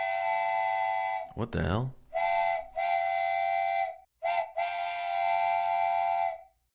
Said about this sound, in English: Was that a train whistle?